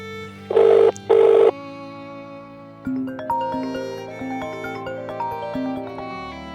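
A telephone rings twice in two short bursts, loud and close, then gives way to gentle background music.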